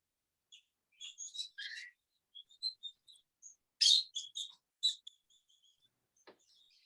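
Several birds chirp and whistle in an aviary, a scattered series of short, bright calls and trills with quiet gaps between them, fairly close and alone without talk.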